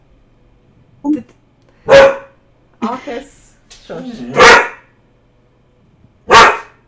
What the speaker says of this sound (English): There is not a dog at the carnival, there is just a dog in real life.